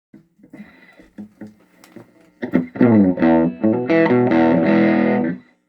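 Electric guitar through a modified Dark Lord amplifier, starting with soft plucked single notes and muted picks, then launching into loud distorted chords with thick crunchy sustain, close and alone, ending abruptly.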